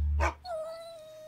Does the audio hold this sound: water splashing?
no